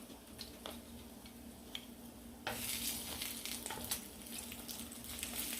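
Slices of spam sizzle steadily in a hot pan, the frying hiss jumping louder partway through as the meat is stirred or turned, with faint ticking underneath.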